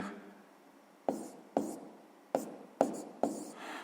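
A pen writes out a sixth-grade math solution, with five sharp taps of the pen landing on paper at uneven intervals, each trailing into soft scratching. The sounds are close and quiet, with no talking.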